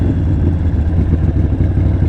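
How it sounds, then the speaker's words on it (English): A dirt bike motorcycle engine runs at close range with a steady, loud low rumble that stays fairly even throughout, with no clear separate rev bursts. "Give it a couple quick revs."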